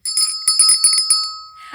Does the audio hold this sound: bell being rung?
yes